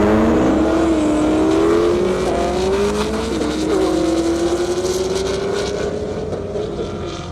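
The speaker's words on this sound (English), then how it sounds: "Brandon English in that Camaro SS" A Chevrolet Camaro SS races down a half-mile airstrip, its engine roaring loud and steady with rising pitch as it accelerates past, the note sweeping upward through the run and fading slightly at the end.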